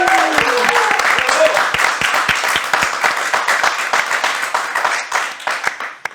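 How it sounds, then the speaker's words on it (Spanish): A small audience at a music and literature talk applauds, with distinct sharp claps standing out from a loud crowd patter. Brief voices sound at the start, and the clapping thins to scattered final claps. "si quieren dar un aplauso"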